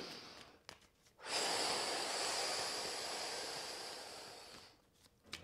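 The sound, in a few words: taking a big deep breath in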